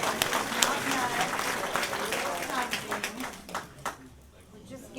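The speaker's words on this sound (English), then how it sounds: "Let's give them a round of applause" An audience at a local history program claps in a steady round of applause, fairly close and moderately loud, thinning out toward the end as the clapping dies down.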